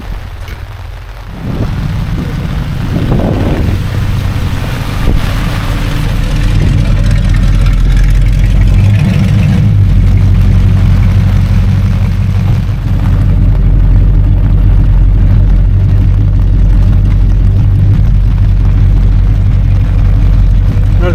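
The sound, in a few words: Dodge muscle car with 528 Ray Barton Hemi stroker engine rumbling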